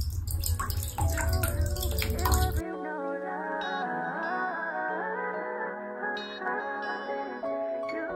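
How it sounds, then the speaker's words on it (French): Water runs and splashes loudly into a bathtub being readied with cider vinegar for soaking hair extensions, then cuts off. Tonal music carries on afterward. "Je vais prendre mes mèches et les mettre dans la baignoire remplie d'eau et de vinaigre de cidre."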